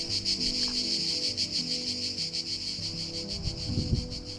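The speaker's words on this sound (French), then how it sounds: "j'entends déjà les cigales." Cicadas in the rocky coastal calanques of Marseille and Cassis buzz in a loud, continuous pulsing drone, with a brief low thump near the end.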